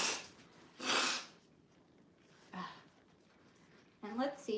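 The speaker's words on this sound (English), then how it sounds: "let me blow my nose" A person blows their nose in a few short, breathy bursts, close and fairly loud, with quieter gaps between them and a short spoken sound near the end.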